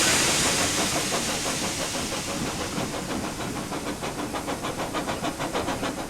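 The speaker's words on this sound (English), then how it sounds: "And Thomas puffed back up the branch line." Thomas the steam locomotive puffs along a branch line, first with a loud burst of steam hiss, then settling into a regular, rapid chuffing rhythm that carries on steadily.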